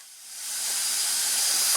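A cutting torch hisses steadily while heating a dented exhaust pipe on a Polaris Ultra snowmobile, a loud broadband rushing sound that swells slightly and then holds constant, with no voices.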